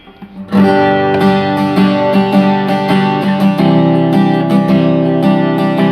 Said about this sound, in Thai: อันนี้คือเสียงกีตาร์เปล่า